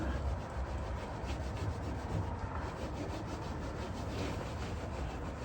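Steady close rubbing against the fabric of a Harbor Freight Shelter Logic portable garage tent to clean off smudges, a continuous rough scrubbing texture with faint rhythmic strokes throughout.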